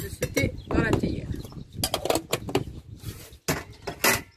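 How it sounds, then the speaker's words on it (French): A spoon scoops tea leaves into a teapot for Moroccan mint tea, giving a series of light metallic clinks and scrapes close by, with someone talking in between. "vous mettez une bonne cuillère à soupe de ce thé dans la théière"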